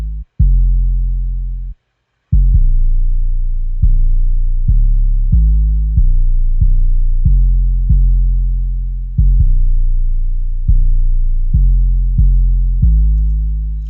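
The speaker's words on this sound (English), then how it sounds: "So then I, threw these 808s in there." Deep, booming 808 bass drum notes hit one after another in an uneven rhythm, each sustaining a low tone before the next, with a brief dropout near the start.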